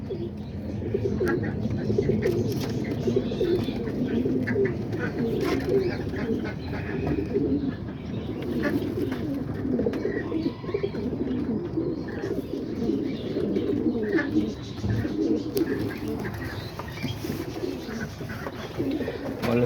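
Homing and roller pigeons in a loft coo in a constant, low, rolling chorus, dense and close, with occasional faint chirps and rustling throughout.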